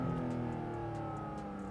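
A Porsche Weissach GT4 RS sports car engine drones steadily with a rich, continuous tone, heard briefly from close by without any voices.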